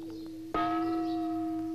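A single gong struck by the keeper of a water clock, a sudden loud strike followed by a long, steady, ringing metallic tone that decays slowly, heard alone.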